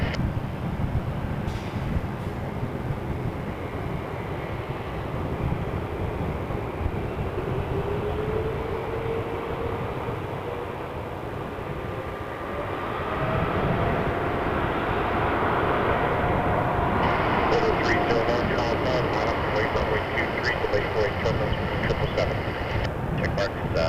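An Air Canada airliner on its takeoff roll from runway 23 at Toronto Pearson, a distant, steady jet roar that gradually builds and swells, mixed with radio chatter from air traffic control.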